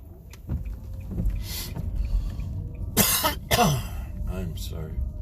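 A person coughs a few times, with throat clearing in a quiet outdoor setting in a small town, alongside a faint low rumble of background noise.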